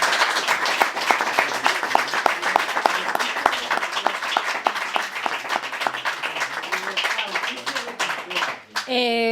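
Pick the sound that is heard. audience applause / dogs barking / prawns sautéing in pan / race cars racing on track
audience applause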